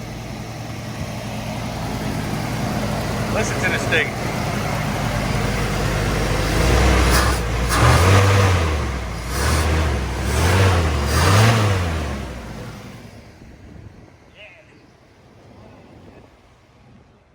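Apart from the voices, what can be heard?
old pickup truck engine idling and revving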